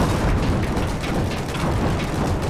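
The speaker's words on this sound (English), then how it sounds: "Oh, grenade! Oh, we got killed by a grenade." A grenade blast goes off in the Battlefield 4 multiplayer game, a loud, dense rumbling burst that fills the clip with low, booming noise and no clear speech.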